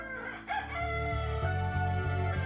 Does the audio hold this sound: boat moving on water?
no